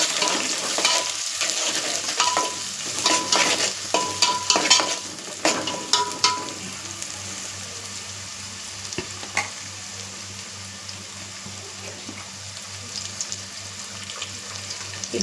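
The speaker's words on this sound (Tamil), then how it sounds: "கருவேப்பிலை போட்டு, வெங்காயம், அது நல்லா கொஞ்சம் வதங்கி வரட்டும்." Onions and curry leaves sizzle steadily in a hot pan while a utensil stirs them, with scraping clatters in the first half giving way to a continuous frying hiss, close and alone with no talk.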